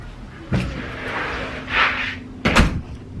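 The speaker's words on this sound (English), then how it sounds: "I'm just going to open the door because at this point it's getting out of hand." A household door opening, with a clear thump and rattle near the start, a brief rushing swish in the middle and a sharper knock-and-clatter near the end, all close by with no talking.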